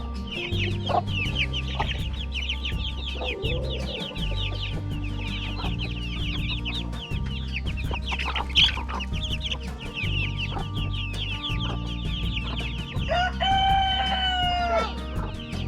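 A hen with chicks clucks and chirps continuously over a steady background hum, with occasional louder calls standing out near the end.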